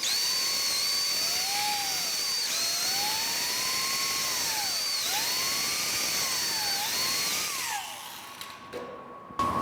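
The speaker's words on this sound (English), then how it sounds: "we're only drilling the lower hole first on both sides" A power drill boring holes into wooden horizontal support pieces for a quilt rack, a steady high whine rising and dipping in pitch over several passes, close and fairly loud, then winding down near the end.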